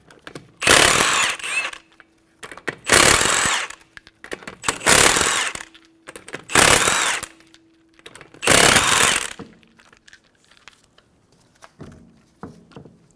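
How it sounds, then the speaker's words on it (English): A power impact tool with a 19mm socket takes off the five lug nuts of a 2012-2020 Chevrolet Sonic wheel in five loud, evenly spaced buzzing bursts, followed by faint metallic clinks. "Using a 19 millimeter socket, remove the 5 lug nuts."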